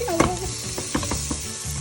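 Onions and garlic sizzle softly in a pan with a few light clinks and stirring taps, close and fairly quiet.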